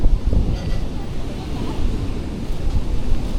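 Strong wind roars steadily against the microphone in heavy gusts, a broad rushing noise with no break.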